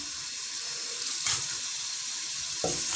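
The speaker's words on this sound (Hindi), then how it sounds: "ऑयल जो है वो गर्म हो चुका है। इसमें हमने जो है प्याज को ऐड कर दिया है।" Chopped onion hits hot oil in a pan while white chickpea curry is being cooked, giving a steady bright sizzling hiss with a couple of brief louder crackles and no voices.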